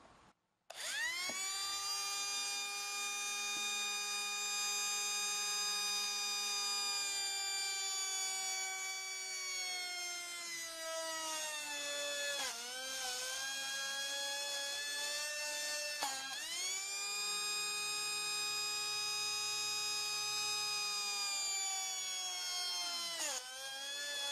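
A small electric drill with a 3.17 mm shaft chuck whirs steadily with a high, tonal motor whine, dipping and rising in pitch as it bites, running almost continuously with no talking.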